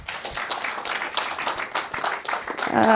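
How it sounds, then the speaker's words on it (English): An audience at a tax consultants and chief financial officers stakeholder session claps for a speaker, uneven scattered applause that swells and ends as a voice begins speaking. "Big round of applause for Taiwo"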